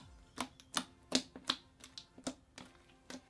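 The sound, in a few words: clicky thick slime being played with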